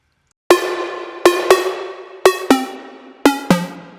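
Plucked melodic notes sent through a separate chain of 100% reverb blended with a dry signal, six bright attacks in an uneven rhythm with long washy tails filling the gaps, no voices.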